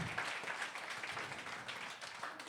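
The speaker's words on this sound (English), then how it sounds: "Clap it up for yourselves and everybody that y'all seen tonight" Faint, steady applause and clapping from a crowd after a live stand-up show, a continuous wash of hands with no clear talk.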